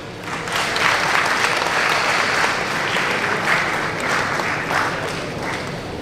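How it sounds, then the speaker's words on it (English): A hall of students at an orientation programme at LNMIIT Jaipur breaks into loud, dense clapping that swells, holds steady for several seconds, then tapers slightly, with faint crowd murmur beneath. "Clap for yourself."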